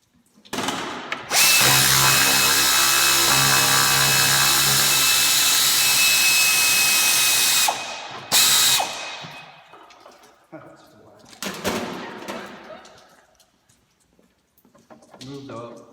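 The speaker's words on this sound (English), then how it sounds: "Now I'm going to remove the coolant reservoir." A loud, close power drill runs in one long steady burst and then a short second burst while a Dodge Ram's coolant reservoir is removed, followed by someone talking over lighter tool clatter.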